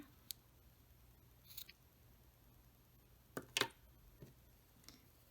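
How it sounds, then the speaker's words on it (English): Scissors snip crochet yarn in a few faint, sharp clicks spread across a quiet room, with a louder double snip near the end. "I'm going to cut my yarn here"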